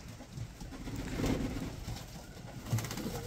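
Racing pigeons cooing softly in a loft, a few low murmuring coos close by against quiet background noise.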